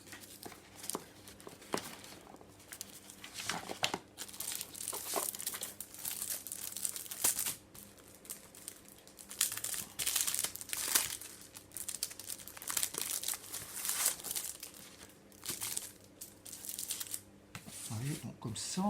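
Black cardstock paper crinkles and rustles in repeated handling bursts as it is wrapped over a book spine during cover assembly, close and intermittent, with a voice talking throughout.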